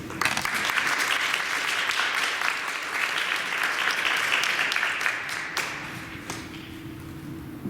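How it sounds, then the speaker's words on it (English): Sustained audience applause honoring third-year ceremony honorees, dense steady clapping that fills the whole stretch and eases slightly toward the end. "Please give a big round of applause to our 3rd year honorees."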